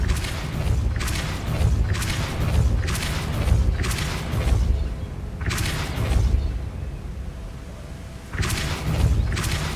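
Hogwarts Legacy Depulso spell effects land as repeated heavy whooshing blasts with low booming thumps, roughly every one to two seconds, loud and close with no talk.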